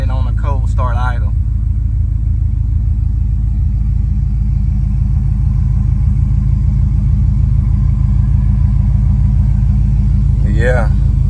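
A 1986 Buick Regal Limited with a big block engine and Holley EFI idles on a cold start, its steady low rumble running close and unbroken throughout, with brief speech near the start and end.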